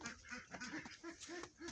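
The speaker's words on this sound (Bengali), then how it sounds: "আরো অনেক হাঁস রয়েছে" Ducks quack in a quiet run of several short nasal calls, faint and somewhat distant, with no voices over them.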